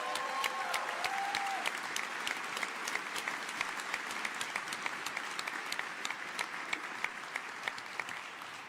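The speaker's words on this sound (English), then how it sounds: "So let's give them a big round of applause." An audience at an AMD CES keynote claps steadily throughout, a dense, even wash of applause from a large crowd with no voices standing out.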